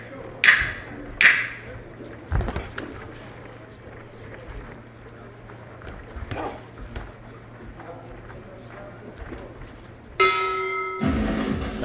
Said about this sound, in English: There goes the bell at the end of the round.